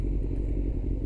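A 2000 Kawasaki ZX6R motorcycle engine rumbles steadily and close at low speed as it pulls in, a brief continuous mechanical drone with no voices.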